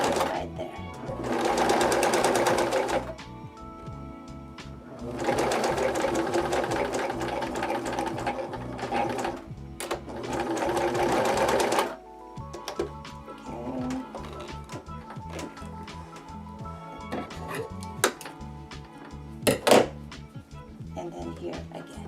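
A sewing machine stitches a child's fabric face mask in three long loud bursts of rapid needle chatter, with pauses and small clicks and handling noises between them, then quieter intermittent mechanical tapping.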